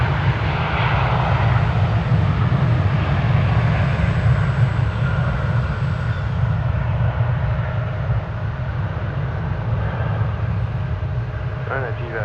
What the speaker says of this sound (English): Off to Palm Springs goes American Flight 2673 and Airbus A321.